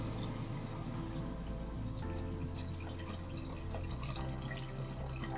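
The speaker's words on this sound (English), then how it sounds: "Add the delicious fish broth you have prepared." Fish broth is poured into a pot of marmitako tuna soup with a steady liquid splashing and trickling. The pour runs continuously at an even level from start to finish.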